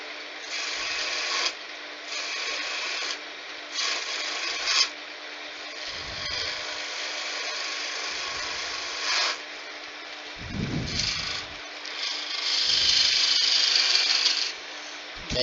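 Woodturning gouge cutting a spindle on a lathe while making a beginner's candlestick, a steady raspy scraping hiss with short bursts and pauses as the tool rides the bevel.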